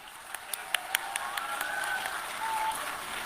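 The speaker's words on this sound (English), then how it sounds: "Can we please have a huge round of applause again?" A small university audience claps faintly and sparsely at a lecture event, a handful of distinct claps scattered over a quiet, hollow room tone.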